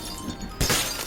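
Glass window shattering into pieces: a sudden bright crash bursts in midway after a dim hiss of background, followed by a spray of tinkling fragments, loud and near.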